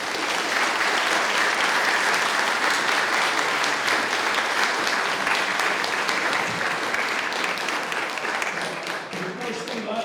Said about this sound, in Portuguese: Uma salva de palmas para todos eles.